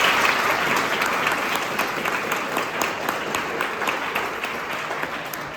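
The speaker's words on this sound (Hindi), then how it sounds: "सबसे पहले एक बार अपने लिए तालियां बजा दें।" An outdoor crowd at a street play applauds, a dense, sustained wash of clapping from many hands that holds steady and tapers off slightly toward the end.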